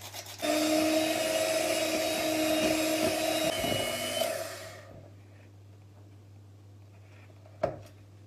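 Electric mixer whisks cake batter with eggs, baking powder and vanilla in a steady loud whirring drone that cuts off after a few seconds, followed by quiet and a single sharp knock.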